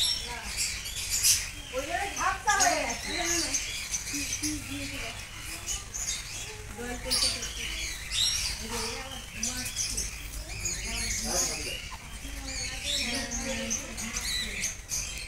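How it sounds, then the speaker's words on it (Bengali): Small birds chirp and twitter repeatedly inside an enclosed bird tunnel, their rising calls close and busy over a constant background hum, while people talk over parts of it. "পাপা দেখ, ওপর দিয়ে পাখি উঠছে।"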